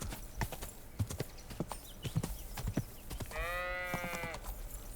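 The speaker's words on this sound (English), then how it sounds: "Sheep." A sheep bleats in Kingdom Come: Deliverance II near a livestock pen, one wavering bleat late in the clip following steady horse hoof clip-clops and footsteps at close range.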